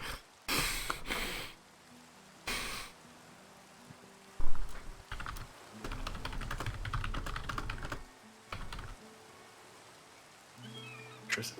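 Computer keyboard typing in irregular bursts of quick clacking keystrokes, fairly close, with short pauses between flurries and some light rustling or sniffing in the background.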